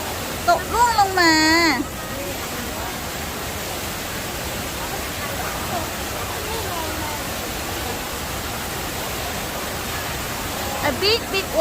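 A big waterfall in Singapore roars with a steady, dense rush of falling water throughout, while a voice speaks briefly at the start and again near the end.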